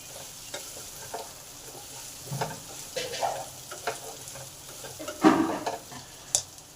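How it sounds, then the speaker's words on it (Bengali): Pumpkin and half-fried potatoes being stirred in a pan, a low sizzle broken by scattered spatula scrapes and soft knocks, fairly quiet and with no speech. "কুমড়োগুলোকে ভালো করে আলুর সঙ্গে নেড়ে নেব"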